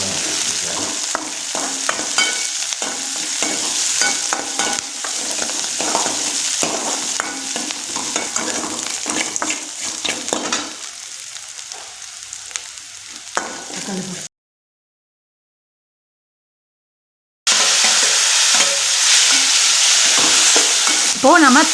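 Onion, garlic and curry leaves with fennel seeds sautéing in a pan for tomato kuzhambu, a loud continuous sizzle with frequent stirring scrapes, a brief silent gap, then the sizzle returns.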